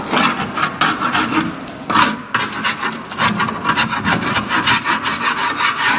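A hand scraper works old junk off the body of a '55 Chevy Nomad in a series of close, loud, rhythmic rasping strokes with short pauses between them, and no voices are heard.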